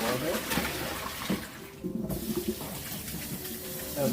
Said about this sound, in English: And dump the water.